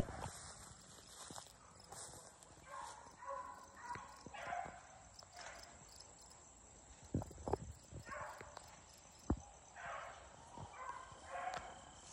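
Beagles bark and yip in short bursts at a distance during a rabbit hunt, mixed with rustling footsteps through brush; the sounds are faint and scattered.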